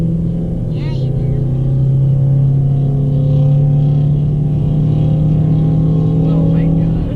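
A Dodge Challenger drives fast around the Texas Motor Speedway oval at close to 100 mph, heard from inside as a loud, steady engine drone and road rumble, with brief voices over it.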